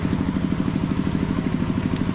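A motorcycle engine close behind on a mountain bike trail gives a steady, rapid pulsing drone, loud and continuous with no talk over it.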